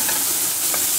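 Green peas fry hard on full gas in a hot pan and are stirred, giving a loud, continuous close-up sizzle with brief scraping stir sounds running through it.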